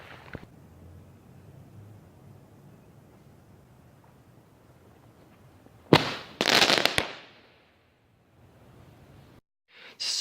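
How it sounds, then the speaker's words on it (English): A homemade aerial firework shell launching and bursting outdoors: a sharp crack near six seconds, a loud roaring blast right after, then silence and another sharp burst at the end. "there wasn't much of a delay between the explosive charge and the propellant"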